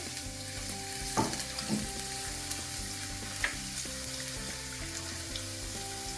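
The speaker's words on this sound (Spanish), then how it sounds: "Ponemos una cazuela al fuego con un poquito de aceite de oliva. Le vamos a añadir los ajos, bien picaditos." Minced garlic sizzling in a little olive oil in a pan, a steady close frying hiss with a few brief louder crackles; musical notes run underneath throughout.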